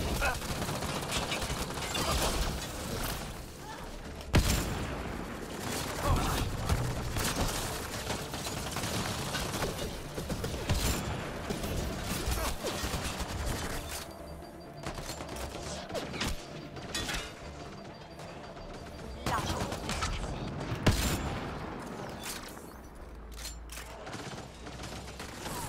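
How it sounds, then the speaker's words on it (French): Gunfire and combat clatter from a Mass Effect Andromeda firefight, with bursts and crashes running densely throughout, some shots coming from behind, amid a busy game soundscape with occasional voices. "C'est qui me tire dessus dans mon dos?"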